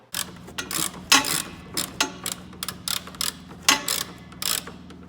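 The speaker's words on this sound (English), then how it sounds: "I gotta get that bolt out, and I just gotta do that to both sides" Ratchet loosening a rear beam bushing bolt on a car, a series of quick clicking pawl strokes in irregular bursts, close and fairly clear over a low background hum; no talking.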